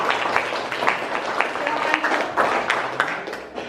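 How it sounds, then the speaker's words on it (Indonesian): A classroom audience gives group 5 a round of applause after its presentation, a light patter of clapping from a small crowd, with a voice speaking over it. "silakan kita beri aplaus untuk kelompok 5"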